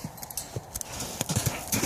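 Horse hooves clip-clopping in a round pen during a ground training exercise, an irregular series of soft thuds and scuffs as the horse moves around, fairly close and moderately quiet, with no voices.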